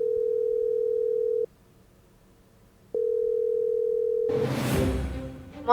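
A phone call rings out on speaker: two long, steady electronic ringback tones separated by a pause, followed by a burst of noisy handling or voice at the end.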